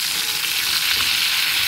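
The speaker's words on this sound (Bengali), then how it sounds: "এক পিঠ ভাজা হয়ে গেছে, এবার মাছটাকে আমি উল্টে দেবো।" A rohu fish head fries in hot oil, giving a loud, dense and unbroken sizzle close to the pan throughout, with no voices.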